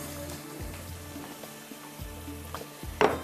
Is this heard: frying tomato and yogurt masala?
yes